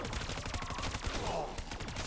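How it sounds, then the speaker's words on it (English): Machine gun fire in a zombie shooter game, a dense, continuous rattle of rapid shots that sounds loud and fills the whole moment. "Machine gun."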